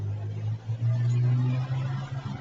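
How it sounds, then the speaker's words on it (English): A van drives around close by, heard as a low rumbling engine drone that rises and falls for a couple of seconds. There is no speech. "I'm looking at a van that's driving around here"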